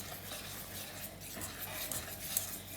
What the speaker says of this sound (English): And now you stir.